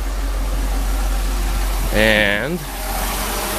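A Mercedes car engine idles after a fuel distributor repair, a steady low hum throughout, with someone briefly talking over it midway.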